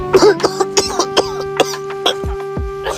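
An older man coughs repeatedly, several harsh close-up coughs in an uneven run, each followed by a rasping throat sound.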